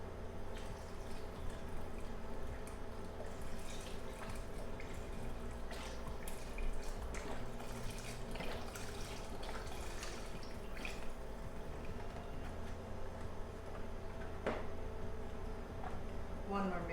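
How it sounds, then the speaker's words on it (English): A 32-ounce carton of poblano-base chicken broth is poured into a soup pot, a steady trickling and splashing liquid sound with scattered drips, close by, under light background noise. "I am going to pour the other 32-ounce broth that has poblano base."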